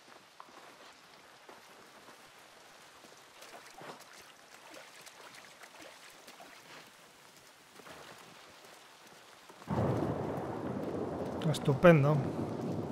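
A thunderstorm in the video game Somerville, set in a UFO apocalypse, surges in near the end as loud, dense rain with a swelling rumble of thunder, following a quiet stretch with someone talking softly.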